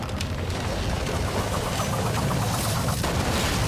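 Fireworks in the video game Assassin's Creed Unity burst in a dense, continuous barrage of booms and crackles that stays loud and steady throughout, with no voices heard.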